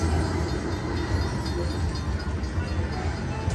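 Train sound effect from a Fu Dai Lian Lian Dragon slot machine in a casino: a steady, loud rumbling rush like rolling rail cars, continuous throughout with no clear speech over it.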